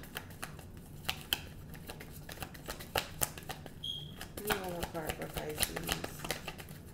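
Tarot cards shuffled by hand in a run of quick papery riffles and taps, building into a denser flutter near the end, with a voice speaking over parts of it.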